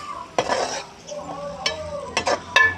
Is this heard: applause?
no